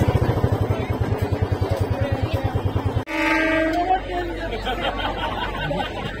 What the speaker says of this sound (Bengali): দিনের প্রথম ট্রেন এখন ক্রস করবে।